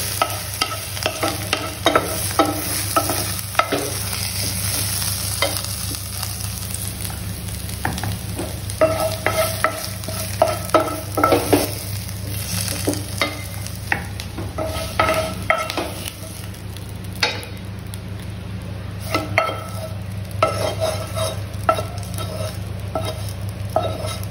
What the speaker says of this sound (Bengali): গ্যাসটা অফ করে দিলাম, শাকগুলো তুলে নিচ্ছি।